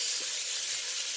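Vegetables for pinakbet frying briefly in a little oil after excess oil is removed, a steady close sizzling hiss filling the clip with no speech.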